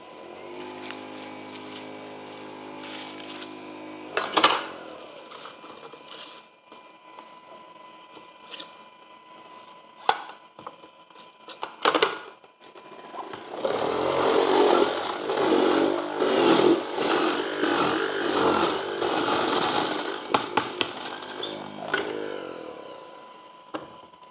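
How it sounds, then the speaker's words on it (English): Scattered clanks and knocks from a Goodnature M-1 juice press give way to its compressor running during pressing, a loud, dense, rumbling mechanical drone that holds for about ten seconds before easing off. "while it's pressing, you can hear the compressor going"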